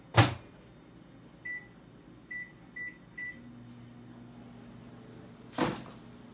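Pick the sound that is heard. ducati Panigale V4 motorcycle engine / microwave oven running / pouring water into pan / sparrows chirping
microwave oven running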